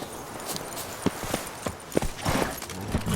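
Roach, a horse in The Witcher 3: Wild Hunt, runs with quick, irregular hoof clops thudding close by over a faint background rumble.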